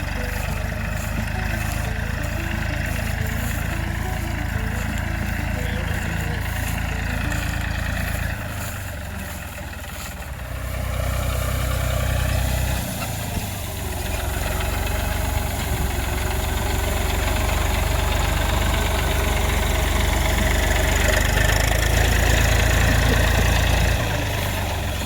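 A tractor fitted with a homemade rear attachment for gathering paddy straw in a field runs loud and close, its rumbling engine steady apart from a brief dip and recovery midway, with faint talk underneath.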